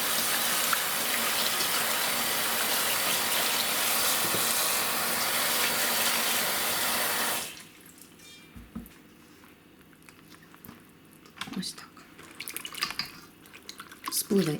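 Running water pours steadily into a bowl for soaking morel-like Verpa bohemica mushrooms, a loud continuous rush that cuts off after about seven seconds, leaving faint handling clatter and small splashes.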